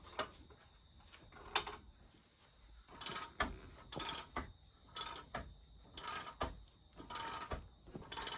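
Quilt being rolled onto the take-up rail of a quilting frame, a quiet series of clicking, ratcheting mechanical clunks in an irregular rhythm, close by.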